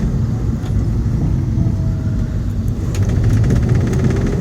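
A 2001 Mitsubishi Galant ST with a manual gearbox cruises at around 2000 rpm, its engine giving a steady mid-pitched hum under road rumble, close and fairly loud with no talk.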